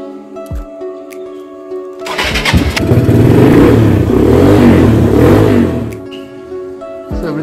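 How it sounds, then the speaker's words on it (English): A motorbike is started cold on a highway ride and its engine revs up, a loud sustained mid-pitched roar that rises and falls for several seconds before settling back to idle. "Hit my bike for a cold start."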